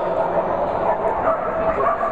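A dog yips and barks at a novice agility league semi-final at Olympia, in a noisy arena with a voice talking over the sound.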